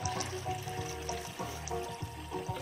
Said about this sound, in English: And what we do is we pour this over the grains.